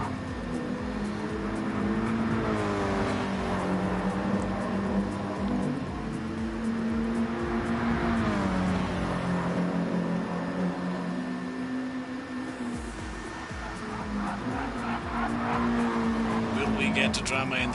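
Race cars on the Suzuka GP circuit in a sim racing game, a Subaru slipstreaming behind another car, with sustained engine drones rising and falling together and a commentator talking over them.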